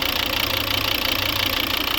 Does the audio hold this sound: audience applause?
no